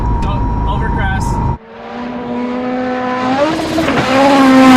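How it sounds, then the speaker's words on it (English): A Cusco GR Yaris Japan Rally Championship race car roars loudly from inside the cabin, its engine note climbing through the revs after a sharp shift, with people talking over it. "this is legitimately a full-on race car. It's so loud."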